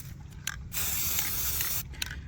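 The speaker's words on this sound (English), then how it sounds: "We'll start by spray painting the pine cone." A gloss white aerosol spray paint can hisses in one steady burst of about a second onto a pine cone, with a few small clicks and rattles of handling before and after.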